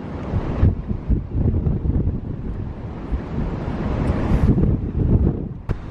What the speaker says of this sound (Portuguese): dá pra escutar o barulho do vento